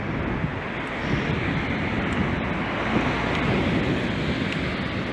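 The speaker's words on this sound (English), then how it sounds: "As you can see, it's quite windy today off the sea." Wind blowing off the sea along the Southend-on-Sea seafront, a steady, close, rushing roar buffeting the microphone with no break and no voices.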